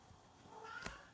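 A pet cat gives a short, faint meow in a quiet room, a single brief call near the end with soft background hiss.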